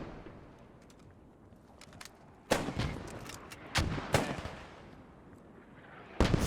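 In the WWII shooter Post Scriptum, heavy artillery and gunfire pound defensive positions, with several loud, sharp booms and bursts rolling out over a constant background rumble of distant battle.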